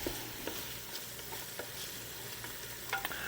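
Mushrooms sauté with a little salt in a pan for soup, giving a steady, close sizzle with light crackles and a few soft stirring taps.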